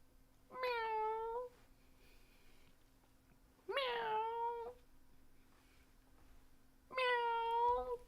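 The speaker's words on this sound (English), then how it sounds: "Thank you for the cat" A cat meows three times, drawn-out and plaintive with pauses between, played as a livestream donation alert over a low steady hum.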